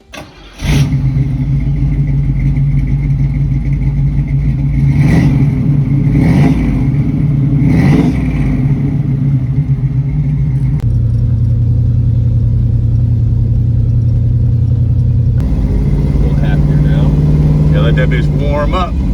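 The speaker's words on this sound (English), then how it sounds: "we gonna show y'all some clips of us riding around in this Chevelle right here." A 1968 Chevrolet Chevelle's engine fires up and rumbles loudly, rising in a few revving surges before settling into a steady droning idle and driving hum, close and dominant.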